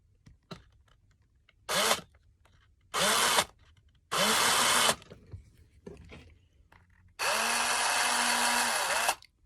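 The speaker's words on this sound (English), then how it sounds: "Now this guy, gotta drill down into." A power drill bores into a rubber doll part in four separate bursts, each a loud, steady whine lasting one to two seconds, with the last burst the longest. Quiet gaps with small handling clicks fall between the bursts.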